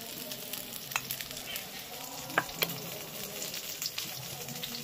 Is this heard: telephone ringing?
no